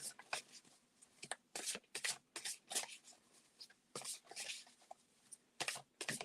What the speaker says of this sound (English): let me know while I'm shuffling for the